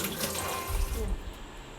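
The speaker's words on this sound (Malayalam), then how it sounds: "ആദ്യം നമുക്ക് ചിക്കൻ നല്ലവണ്ണം കഴുകി വൃത്തിയാക്കാം." Tap water runs into a kitchen sink while chicken is washed, a short close gush that thins out and eases off after about a second.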